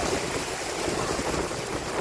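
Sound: heavy rain

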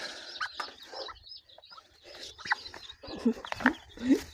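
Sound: duck on nest hatching ducklings

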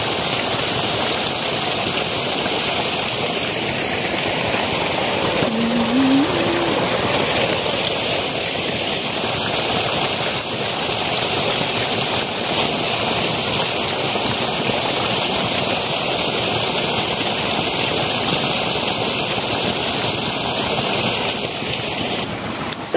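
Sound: rushing stream water

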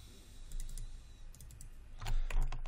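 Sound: computer mouse double clicking

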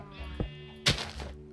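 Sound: sheep bleating as it is sheared, Minecraft Ancient Warfare mod, video game

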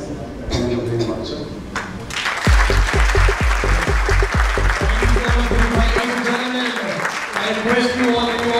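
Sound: audience applause at GJEPC felicitation

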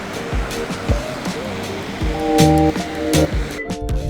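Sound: waterfall in the Bighorn Mountains

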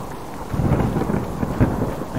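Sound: rain and thunder in the video game Subsistence

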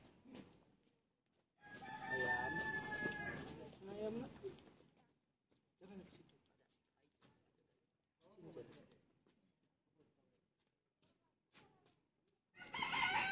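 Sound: rooster crowing and chickens clucking

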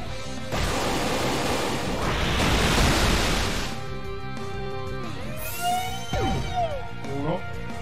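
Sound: waterfall in Pokémon Y video game

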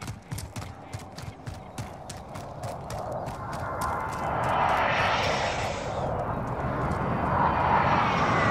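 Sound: enemy UAV aircraft flying overhead in a video game

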